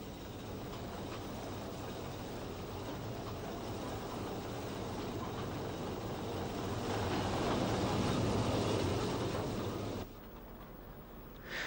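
A peat railway train runs steadily along its track in Ireland, a continuous loud rumble and rattle that swells slightly toward the end before dropping away abruptly.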